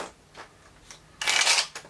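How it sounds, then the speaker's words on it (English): A deck of playing cards being shuffled during a magic card trick: a few soft taps and rustles, then a quick, bright riffling burst of about half a second, close and alone. "You've shuffled them multiple times."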